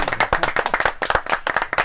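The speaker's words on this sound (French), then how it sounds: "On peut l'applaudir vraiment grandement." Studio audience applause on a French auto-moto television programme, brisk, loud clapping from many hands close by, continuous and rhythmic without any voices.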